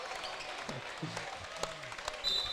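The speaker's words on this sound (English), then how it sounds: "And our seniors come out to some applause." Applause from a high-school gym crowd as seniors walk out on senior night at a varsity basketball game, a steady wash of clapping with scattered shoe squeaks and a voice or two underneath.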